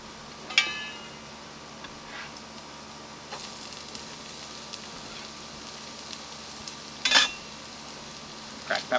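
Onions fry outdoors with a soft, steady sizzle, broken by occasional scraping and clinking as they are stirred in the pan.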